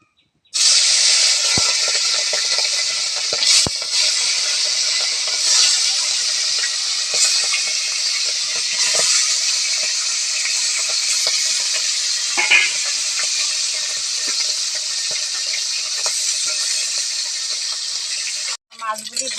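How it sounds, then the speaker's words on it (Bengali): Small bhangan fish frying in oil in a pan, a loud continuous hiss and sizzle heard up close with a few crackles and stirring knocks, cut off abruptly near the end. "মাছগুলো এখন আমি ভেজে নিচ্ছি।"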